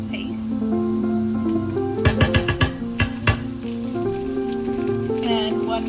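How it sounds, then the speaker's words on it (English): Onions sauté in a pan with a steady background sizzle, while a cluster of sharp metallic spoon clicks and taps lands midway; a voice hums or speaks tonally over much of it. "we're gonna start by sauteing some onions, like 2 medium-sized onions"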